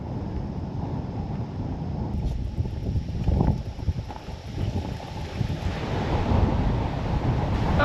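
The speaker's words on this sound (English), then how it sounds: "Oh, it's bloody windy this morning." Strong wind roars across the microphone while cycling on a morning ride, a loud, steady buffeting rumble that gusts up and down throughout with no talking.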